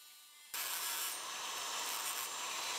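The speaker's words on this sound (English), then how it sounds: "I just need to grind away the sharp bit." A grinder works away the sharp nub of a homemade bottle opener, starting abruptly with a loud, harsh, steady abrasive rasp that holds for a couple of seconds.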